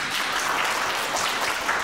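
Warm applause from guests at a one-year-old's birthday celebration, a dense, steady clapping that fills the room evenly without letting up.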